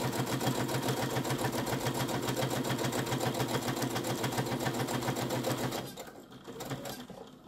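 Close, steady sewing machine stitching around a fabric coaster at a quarter-inch seam, back tacking at the start, running evenly before slowing and winding down in the final second or two.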